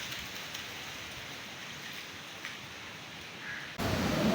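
Steady heavy rain hisses continuously at close range, with occasional drops spattering, then grows suddenly louder and rougher near the end.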